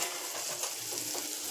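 Dal and rice bun dosa batter frying in an oiled pan over a gas flame, a steady close hissing sizzle with faint crackles, short and continuous with no talk.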